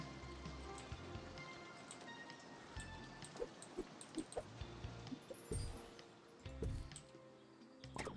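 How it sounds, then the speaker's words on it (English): Light drizzling rain in the Two Point Campus game, a steady soft patter of drops on surfaces with scattered ticks and small splashes, continuous and moderately quiet throughout. "It's a bit drizzly outside."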